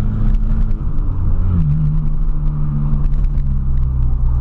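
A Volkswagen Gol engine fitted with a sports exhaust rumbles loudly and steadily with a deep, throaty exhaust note, swelling slightly as it revs, close by.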